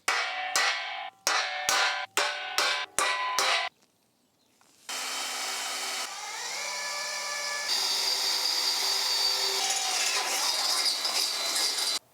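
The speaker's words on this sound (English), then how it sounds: "we're bolting down our seats so we can slide them forward and get our back marks" A hand ratchet clicks in several quick bursts while bolts fasten seats to floor rails in a Ram Promaster van, then a steadier whirring drive sound takes over, close and clear with no talking.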